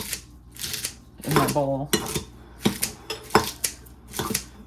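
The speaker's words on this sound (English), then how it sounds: "So I just take the scissors and chop them up" Scissors snip through lettuce in a bowl, a string of short crisp cuts close to the microphone, with someone talking between them.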